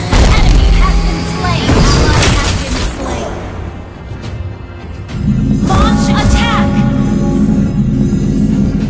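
A turret is destroyed in the Mobile Legends game: a loud boom and crash open the moment, then the game's effects and music continue under an announcer's voice.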